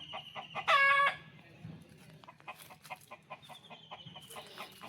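A rooster on an agro-tourism farm gives a loud crowing burst followed by repeated sharp clucks and calls at close range, with no talking.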